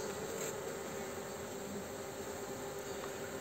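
Honeybees at a hive fanning to sound the rappel call, a steady, close, low insect hum that drones evenly throughout without speech.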